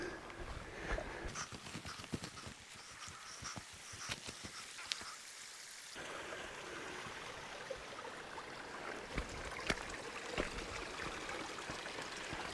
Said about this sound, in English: I can have a quick look at this river.